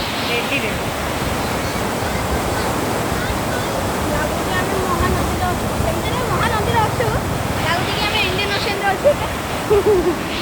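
Loud, steady rushing river water roars throughout, a broad continuous wash with occasional faint voices over it.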